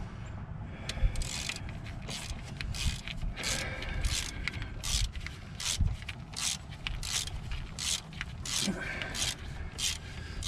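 A hand ratchet tightens oil pan bolts on a Chevy K2500 plow truck, a rapid series of rhythmic clicking bursts, close and fairly loud, repeating steadily throughout.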